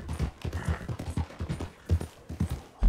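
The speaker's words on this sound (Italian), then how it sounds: "Cavallo" Horse hooves clip-clop in a steady, brisk rhythm in Red Dead Redemption 2, a close, continuous run of dull thuds with no talk over them.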